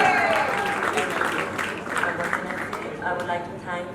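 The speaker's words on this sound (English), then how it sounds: "Round of applause, everyone." An audience at a charity fashion show gives a round of applause. The clapping is fairly faint and diffuse and sits under a voice talking over it.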